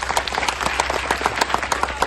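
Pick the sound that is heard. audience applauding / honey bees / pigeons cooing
audience applauding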